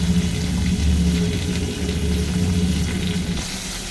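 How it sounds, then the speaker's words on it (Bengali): Water goes into a pan of potatoes fried until well reddened with chopped tomato, producing a loud, steady sizzle over a low hum that continues unbroken. "আলুটা ভালোই লাল হয়ে গেছে এবার দেবো জল"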